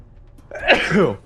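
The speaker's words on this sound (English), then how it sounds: "I have to sneeze." A single sneeze bursts out after a quiet moment, close and fairly loud, with a sharp intake and breathy release lasting under a second, while a gamer plays a speedrun of Fallout 4.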